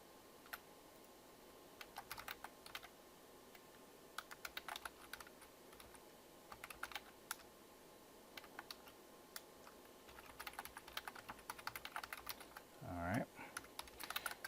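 Someone types on a computer keyboard while writing a paper, producing quiet, irregular keystrokes that thicken into a busier flurry toward the end, with no talking.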